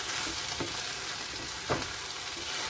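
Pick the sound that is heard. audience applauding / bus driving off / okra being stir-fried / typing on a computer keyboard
okra being stir-fried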